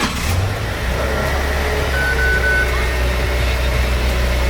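A Subaru WRX with push-button start turns over and settles into a steady, fairly quiet idle, its low engine rumble running continuously near the car.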